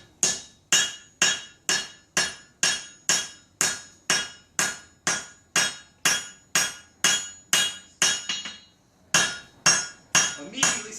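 Hot steel is hammered on an anvil while forge-welding a tomahawk and working it up on edge. About twenty sharp, ringing blows fall in a steady rhythm, loud and close, with a short pause near the end before the strikes resume.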